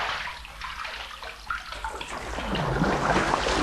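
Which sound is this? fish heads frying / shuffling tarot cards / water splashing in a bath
water splashing in a bath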